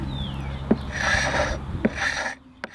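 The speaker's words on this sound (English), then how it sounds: "I needed to add varnish, but just locally. And now I want to get it even with the rest. So I basically use the scraper" A hand scraper drawn over freshly varnished wood in a boatyard makes a few close, dry rasping strokes, each with a sharp tick at its start, then the scraping stops briefly.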